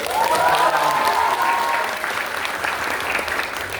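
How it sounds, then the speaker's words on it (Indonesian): Sustained applause from a university lecture audience, steady and dense throughout, fading slightly toward the end. "Terima kasih Prof. Dadang, beri tepuk tangan dulu buat"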